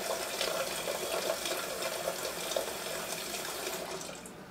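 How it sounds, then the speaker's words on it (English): Tap water runs steadily into a cooking pot being filled to boil ravioli, a continuous close splashing rush that softens slightly toward the end. "I'm going to put some water in this pot to boil my raviola."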